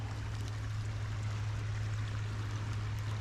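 Creek water in the woods flows in a steady, continuous wash, with a constant low rumble beneath and a faint trickling hiss, with no talk.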